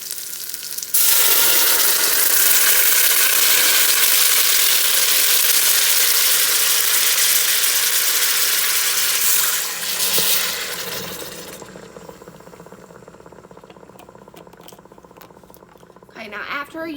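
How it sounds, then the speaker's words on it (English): Apple juice poured around the sides of a hot Instant Pot holding pork gives a loud, steady sizzling hiss for several seconds, then eases into a quieter simmering bubble. "I'm going to use 8 ounces of apple juice. And just pour this around the sides."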